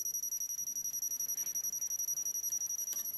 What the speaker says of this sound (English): accordingly the buzzer is beeping.